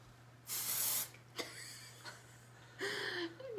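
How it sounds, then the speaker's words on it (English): Hairspray hisses from an aerosol can onto someone's hair in two bursts, a loud half-second spray and a later shorter one, with a click and soft sniffing and breathing sounds between them. "You gotta lift up some hair and spray underneath."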